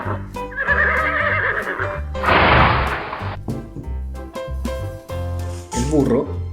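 A farm horse lets out a rising whinny followed by a loud, breathy snort, then a shorter neigh near the end, all close and clear over soft background music.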